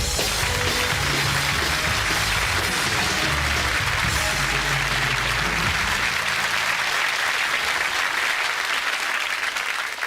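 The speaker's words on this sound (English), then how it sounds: "Give him a nice clap." On a BBC Generation Game set, a large studio audience claps loudly and continuously for around ten seconds, a thick, even roar of hands that thins slightly toward the end.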